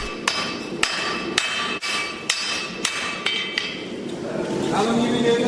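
Blacksmith hammering hot metal on an anvil in a forging challenge, about nine sharp ringing blows at a steady pace, close and loud, then a brief pause with clinking and background murmur.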